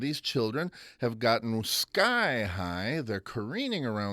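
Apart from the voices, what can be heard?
No distinct noise like a dog, phone or traffic.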